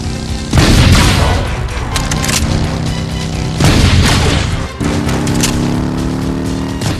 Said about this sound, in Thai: ฉากที่อาโนเนี่ยควงลูกซองยิงนะครับ